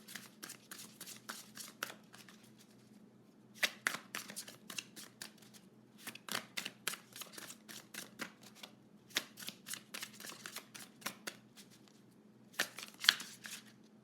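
She-Wolf Tarot cards are shuffled and pulled, a close, quiet run of rapid papery riffles and flicks coming in bursts separated by short pauses, with no voices.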